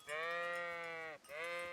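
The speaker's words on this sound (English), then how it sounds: "The sheep is stuck in the rock." Two loud, close sheep bleats from the video game Kingdom Come: Deliverance, a long wavering call followed after a brief gap by a shorter second one, with no talking.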